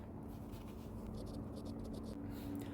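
An equation written out by hand during a thermodynamics explanation, heard as a faint, continuous scratch of pen strokes with a low background hum and no voices.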